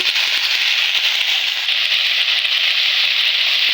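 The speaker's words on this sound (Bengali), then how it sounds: "আর হলুদ গুঁড়ো দিয়ে আমি কিছুক্ষণ ভালোভাবে নেড়ে নেব।" Pointed gourd frying with turmeric powder in hot oil gives a loud, steady sizzle with fine crackling throughout, close and continuous, no voices.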